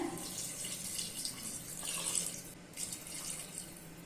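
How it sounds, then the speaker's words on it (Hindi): Two glasses of hot water are poured steadily into a pan of chicken rassa curry, a continuous splashing, hissing stream heard close and alone for several seconds with only a brief dip in the flow. "अभी इसमें 2 ग्लास गर्म पानी ऐड कर लेना है"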